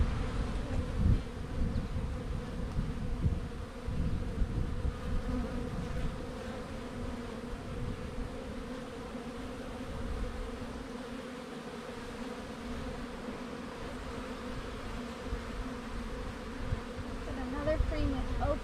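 Honeybees buzzing steadily around an open five-frame hive during an inspection, a dense continuous hum close by with a little handling noise and no talk.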